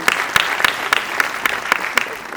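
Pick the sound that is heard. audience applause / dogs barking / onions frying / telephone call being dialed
audience applause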